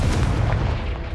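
A Confringo fire spell bursts in the game Hogwarts Legacy, a short heavy booming explosion with a dense low rumble that fills the moment and fades slightly.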